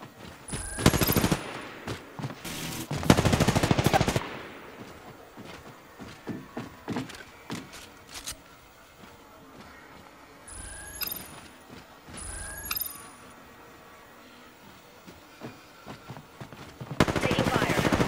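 Apex Legends gunfire arrives in a few loud bursts at the start and end, with scattered shots, thuds and footsteps between them and a game voice announcing status.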